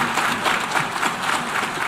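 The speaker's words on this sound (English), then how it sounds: "Sustained applause after his speech" Applause at an international gathering after a speech, a dense, even wash of many hands clapping with no voices on top.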